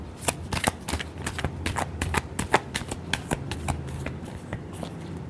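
Tarot cards being shuffled by hand: a rapid run of crisp riffling snaps and flicks, close and fairly loud, continuing steadily without pause and with no voice over them.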